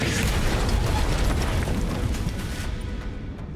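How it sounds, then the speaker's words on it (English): Large explosion in the video game Reverse Collapse, a loud continuous roaring blast with crackling debris that rumbles steadily, then thins and fades over the last second. "The explosion will catch up with us soon."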